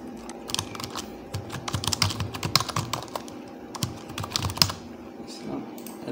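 Brisk typing on a computer keyboard while filling in an online job application form, a dense run of sharp, close key clicks with brief pauses and a few louder strikes.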